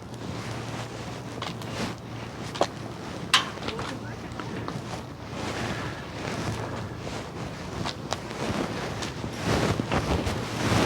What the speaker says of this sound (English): so I got the wind blowing in my favor this way